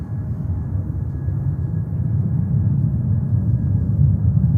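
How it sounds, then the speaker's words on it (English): A Norse Boeing 787-9 Dreamliner arriving from London Gatwick at JFK airport produces a continuous, deep jet rumble that holds steady and swells slightly, heard from a distance with no talk. "we have Norse coming in from London Gatwick. 787-9 Dreamliner."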